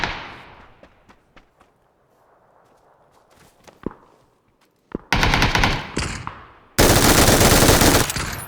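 Automatic rifle fire in PUBG: after quiet footsteps and scattered clicks, loud, close, rapid bursts of gunfire erupt, one short volley then a sustained burst near the end.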